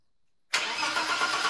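After a brief silence, a BMW E30 Touring engine fires abruptly and settles into a loud, even idle up close, with a leaking throttle body and no voices.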